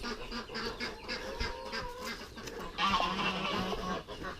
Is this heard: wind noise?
no